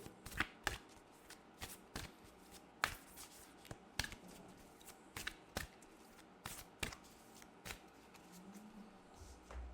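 Playing cards are shuffled in sharp, repeated riffles and snaps, close and crisp, with short pauses between bursts and no talking.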